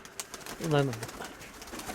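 A single pigeon gives one brief, low coo pulse near the middle, set against a quiet room with faint background noise and a voice nearby.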